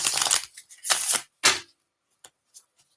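Tarot cards being shuffled in quick, crisp riffling bursts, three main flurries followed by a few light taps and slides as the deck settles.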